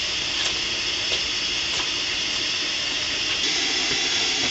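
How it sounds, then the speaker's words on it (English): Steady rushing hiss of water at a rolling boil in a pot, continuous and fairly close, with faint bubbling texture and no voices. "Okay, water's boiling"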